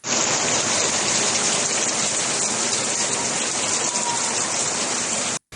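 Heavy rain during a storm in Málaga, Spain pours as a dense, loud, continuous hiss of drops on surfaces, unbroken until an abrupt cut near the end.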